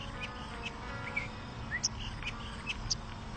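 Pet bird chirping indoors: a few short, thin high chirps and tweets scattered over a low background hum, faint and sparse.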